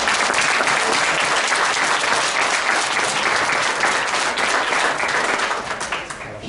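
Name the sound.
audience applause for poster competition winners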